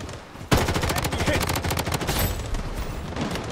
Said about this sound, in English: Let's try that turret real quick.